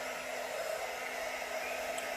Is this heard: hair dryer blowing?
yes